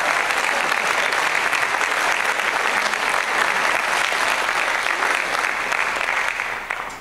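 Loud, dense applause from an audience at a university drum clinic, continuous and close for about seven seconds before tapering slightly at the end.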